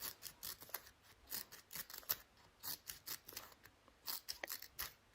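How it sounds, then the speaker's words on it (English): Scissors snip through paper strips to make red packet lanterns for a Chinese New Year craft, giving a quiet, steady run of short, crisp cuts with no voices. "Should you have any wider strips, cut it in the middle."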